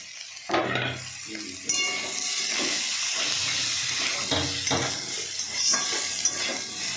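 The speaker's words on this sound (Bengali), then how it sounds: "এবার আমি এই যে লঙ্কা হলুদ নুনটা দিয়ে দেবো।" Tomato frying in a pan with onion, ginger, garlic, chili, turmeric and salt: a steady sizzle with repeated scraping stirs of a spoon against the pan, close and continuous.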